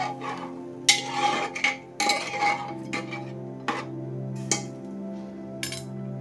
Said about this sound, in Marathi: आता हे एकदा व्यवस्थित हलवून घेऊया सर्व बाजूनी